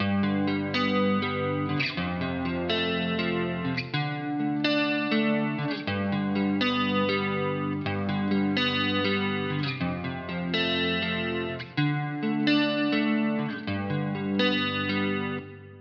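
An acoustic guitar is fingerpicked through a chorus effect, with the treble cut by EQ and some reverb added. The arpeggiated pattern is steady, close and continuous, with no voices.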